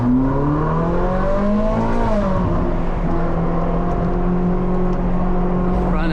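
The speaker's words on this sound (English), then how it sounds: "There is this little turn and bridge here, so let's give it a little gas." A Ferrari 458 given a burst of throttle near a turn and bridge, the engine note swelling and rising in pitch, then settling into a steady drone with tire and road noise throughout.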